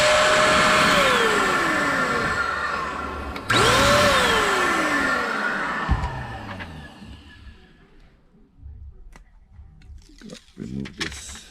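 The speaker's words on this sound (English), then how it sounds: "I'm gonna have to blow it with the duster real quick" Canned air duster blown in bursts during an iPad mini 2 screen replacement: two loud hissing blasts, a short pause between them, each fading out, then softer scattered handling noises.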